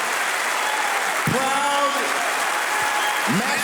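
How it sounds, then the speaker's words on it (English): Steady applause from an audience at a live event fills the clip, running continuously at moderate loudness while someone speaks over it with a few brief raised remarks. "Give these men a big hand clap."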